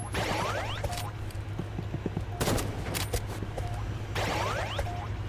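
Gunfire in a Roblox game, with bursts of rapid shots and sharp reports, some whooshing effects, over constant low game background noise.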